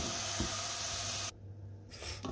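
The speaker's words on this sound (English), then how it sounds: "So I've just added the rest of the onions in there, so they're just simmering away nicely" Onions just added to a hot frying pan hiss with a steady, bright sizzle that breaks off sharply partway through, then picks back up faintly near the end.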